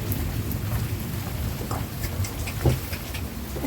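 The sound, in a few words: heavy rain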